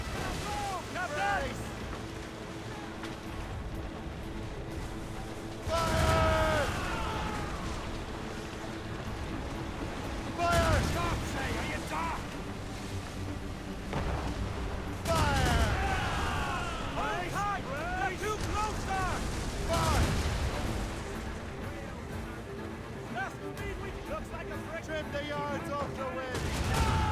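Ship cannons fire in a naval battle in Assassin's Creed Rogue, booming blasts at irregular intervals over a steady background of wind, waves and crew shouts, with voices calling orders throughout.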